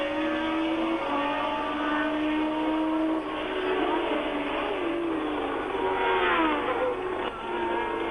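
Formula 1 race cars at the 1979 French Grand Prix at Dijon scream past at speed, with a continuous high engine whine and rising and falling pitch sweeps as the cars go by, loud and unbroken.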